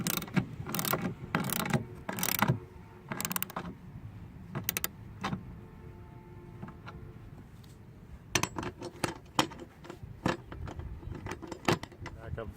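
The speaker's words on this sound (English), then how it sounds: "There's our 17 millimeter ratchet attachment that we're going to go ahead and tighten these up" A 17 mm ratchet tightening seat bracket bolts in a 2015 Honda Fit, heard as bursts of rapid close clicking separated by pauses, with some quieter handling clatter in between.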